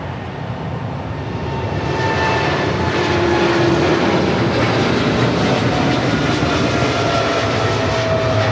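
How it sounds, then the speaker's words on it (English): Polar Air Cargo 962 cargo jet departing Los Angeles International Airport for Cincinnati, a loud, sustained engine roar swelling slightly and holding steady throughout, with no voices. "That was Polar Air Cargo 962 departing to Cincinnati"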